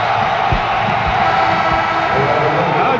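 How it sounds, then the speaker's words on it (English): A basketball arena crowd cheers on its feet, a dense, loud roar of voices and whoops that holds steady throughout. "Crowd on their feet."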